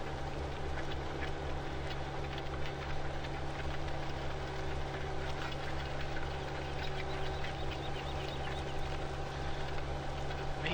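A tractor engine idling in Farming Simulator 17, a steady low mechanical drone with a faint ticking pulse running evenly throughout, moderately quiet and unbroken, with no talk over it.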